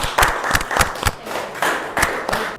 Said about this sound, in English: Let's clap for our guest here